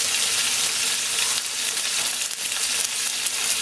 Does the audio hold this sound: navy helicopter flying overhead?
no